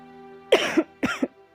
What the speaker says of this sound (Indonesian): Di tempat tidur Yao Huo mulai batuk lagi